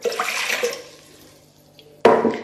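Water splashes and pours briefly into an Instant Pot IP-DUO60 pressure cooker pot, fades out, then a second burst of pouring water starts abruptly near the end.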